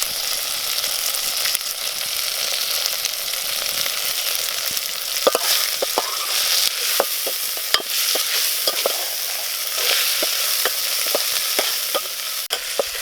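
Whole cloves, cardamom and cinnamon frying in a pan of hot oil for a village-style meal, giving a steady close sizzle and crackle broken by sharp clicks of stirring, with no voices.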